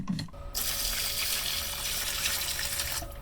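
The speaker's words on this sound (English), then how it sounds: "I have a ton of water in there right now" Water pours steadily into a glass day gecko vivarium, a continuous rushing splash that holds for several seconds before stopping abruptly.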